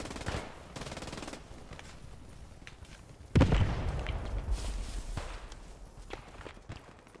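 Gunfire in the Post Scriptum WWII shooter game during a 50-versus-50 Utah Beach defense, with an enemy tank firing: a heavy blast hits midway, then scattered shots and crackling rattle continue under steady battlefield noise.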